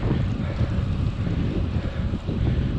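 Constant wind roars over the microphone of a cyclist riding into a headwind on a 60 km out-and-back ride, a loud, steady low rumble with no voices.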